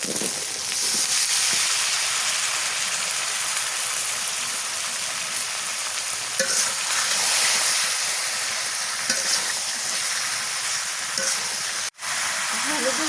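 Bottle gourd and small river fish fry with spices in a pan, a dense, continuous loud sizzle with occasional stirring knocks and a brief clack near the end, no clear talk.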